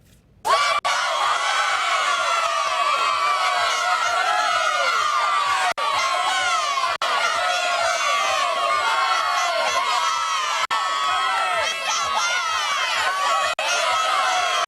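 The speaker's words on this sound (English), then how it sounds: "make some noise for the Tupelo cheer squad" A high school cheer squad and crowd scream, whoop and cheer loudly and continuously, with shrill high voices and rhythmic clapping or stomping beneath, close and sustained throughout.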